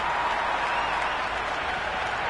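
A cricket crowd at a tri-series match applauds in a steady, moderately distant wash of clapping that holds evenly throughout without breaks.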